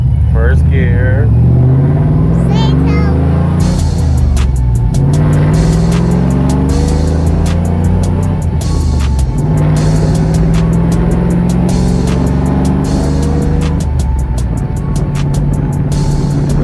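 An LS-swapped OBS Chevrolet pickup with a 5-speed manual pulls away in first gear, its V8 rumbling loudly and climbing in revs close by, with someone talking over the engine throughout.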